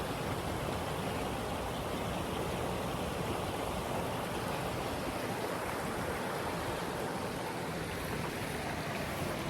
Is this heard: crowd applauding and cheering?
no